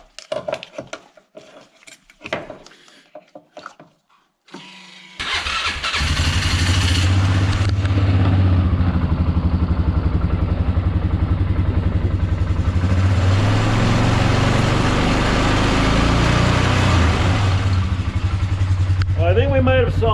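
A replacement part is hooked up and an engine cranks, then catches and runs steadily at a loud, even idle, its rumble filling the space after a few scattered knocks and clatters.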